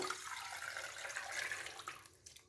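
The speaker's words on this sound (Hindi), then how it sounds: "और अब हम इसके अंदर पानी डालेंगे।" Water is poured into a pot of boiled corn cobs in a home kitchen, a faint steady splashing stream that tapers off into a few trickles and drips.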